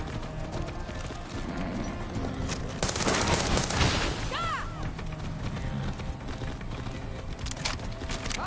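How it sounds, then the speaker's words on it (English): Horse hooves gallop in the Far Cry 6 video game, a steady rapid beat of clip-clop running under dense game sound, with a louder burst of noise midway. "Did you ride that white horse?"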